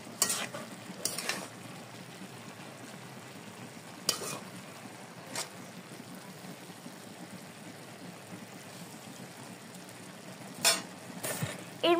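Cabbage curry being stirred in a pan, a soft steady sizzle running throughout with a few brief scraping clinks of the spoon against the pan now and then.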